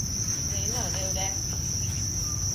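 Crickets on a cricket breeding farm trill in a constant high-pitched drone among egg-laying trays, with a low background rumble and faint indistinct sounds.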